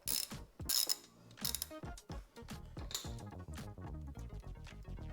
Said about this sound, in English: To this, you'll need an 8mm socket to remove the bolt.